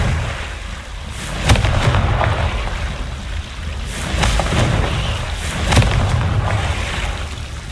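Booming fire-spell blasts in the Hogwarts Legacy video game, several heavy low explosions with sharp cracks at intervals, a rumbling, stormy bed of game sound between them.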